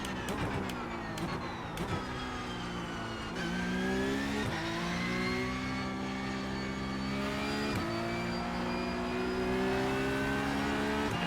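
Porsche 911 Cup 992.2 race car engine in iRacing, pulling hard through a run of upshifts: a loud, steady rising wail that drops briefly at each gear change and climbs again, with no talking.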